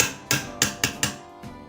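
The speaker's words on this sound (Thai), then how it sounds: "ประโยชน์ที่หนึ่ง ตอกไกลูกปืนพัดลม" A fan repair tool knocks a fan bearing into place with five sharp, close metallic taps at uneven intervals, each decaying quickly, with no talking.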